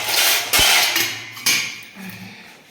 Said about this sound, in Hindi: बर्तन पड़े हुए सिंक में